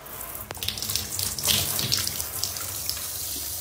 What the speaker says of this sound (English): but we'll put some water on there.